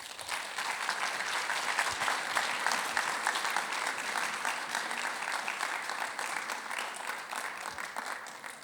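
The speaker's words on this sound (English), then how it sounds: "I want a big, big thanks and a big round of applause." Sustained applause from a conference audience, a dense, even clapping that holds steady at a moderate level for the whole stretch without voices.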